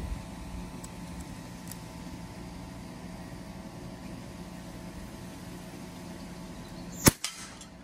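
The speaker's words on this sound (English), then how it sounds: "this is probably the loudest air gun that I own" A single loud air gun shot near the end of a quiet outdoor stretch in Key West, one sharp crack followed by a brief impact or echo.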